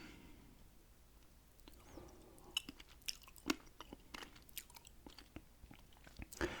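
Close, quiet chewing and crunching of Taco Bell food such as tacos, nachos or cinnamon twists, irregular bites and mastication that build toward louder crunches near the end.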